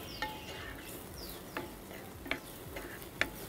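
Garlic frying in a little hot oil in a pan, a faint continuous sizzle with sparse clicking taps of a utensil, quiet and close with no voices.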